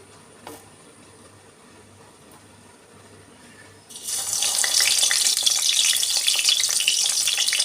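Pointed gourd frying in hot oil in a wok, as fish curry is prepared: quiet background for about four seconds, then a sudden loud, steady hissing sizzle that continues to the end.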